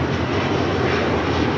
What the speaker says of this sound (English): That is Delta Flight 7 Heavy departing to Tokyo Haneda on the A330 Neo